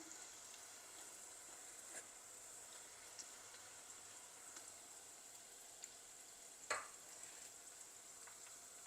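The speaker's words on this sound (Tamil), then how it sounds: "நல்லா பொரியட்டும் வெண்டிக்காயெல்லாம் ஃப்ரை ஆகிட்டு" Soft, steady crackling sizzle of okra frying in hot oil, quiet and continuous, with a few small pops and one brief louder clatter.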